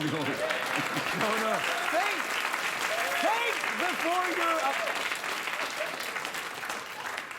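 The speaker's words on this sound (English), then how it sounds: "Think what you're applauding." A late-night talk show studio audience applauds steadily, and the clapping fades slightly toward the end while someone talks and laughs over it.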